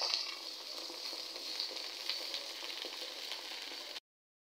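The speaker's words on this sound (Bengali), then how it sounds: "5 ফোড়নগুলোকে খুব ভালোভাবে ভেজে নিব। এবার দিয়ে দিব সরিষা বাটা।" Five-spice seeds and mustard paste fry in a pan, a faint, steady hiss of sizzling with light stirring scrapes, ending abruptly into silence near the end.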